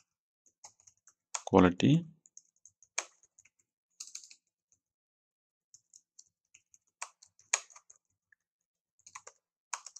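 Light keystrokes tap on a computer keyboard in scattered short bursts, close and fairly quiet, with a brief spoken word near the start.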